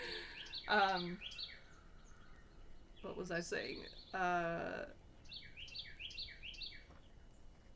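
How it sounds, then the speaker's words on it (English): Small birds chirp and sing in repeated bright phrases at a seed feeder outdoors, moderately near, with a person speaking briefly in between. "I put bird seed out and they're just like loving it. So excuse all the bird sounds."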